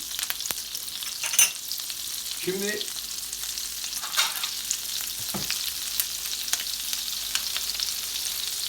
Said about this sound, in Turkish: bu sosta dinlendirmiş olduğumuz artık kaburgalarımızı kızartma işlemine başlıyoruz.